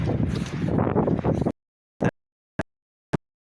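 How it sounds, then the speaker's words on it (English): Strong blizzard wind in southwestern Washington, with snow blowing and flags flying, roars against the microphone in a loud, steady rush for about a second and a half, then cuts off into silence broken by a few short gusty bumps. "The wind is just ridiculous."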